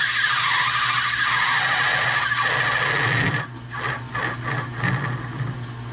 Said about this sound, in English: I really didn't know that turning brass created such a squeal.